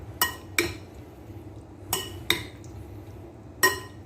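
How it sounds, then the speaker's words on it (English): A large spoon stirs shrimp and pasta in a cooking pot, knocking against the metal in five sharp, close clinks spread unevenly over a faint room hum, with no talking. "now you're stirring all of that good shit that I just dumped on top of it into your shrimp and pasta"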